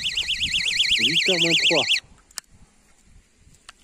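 An electronic carp fishing bite alarm on an XTREM rod setup goes off with a loud warbling tone for about two seconds, with rapid beeping bursts, then cuts out as a person speaks.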